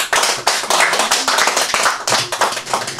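Lively group clapping at a surprise birthday celebration for a grandmother, close and loud, a dense, continuous patter of hands for three seconds.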